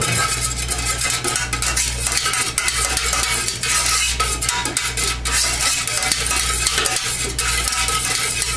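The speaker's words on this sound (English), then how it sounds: "Yeah, you really need to stir" Scented soy wax for cupcake candles is stirred steadily in a container, a loud continuous scraping and clinking of utensil against vessel with a low hum underneath, no voices.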